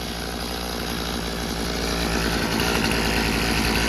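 An old Craftsman chainsaw, just repaired with a fixed carburetor adapter leak, idles steadily up close, a continuous buzzing two-stroke drone that swells slightly louder toward the end.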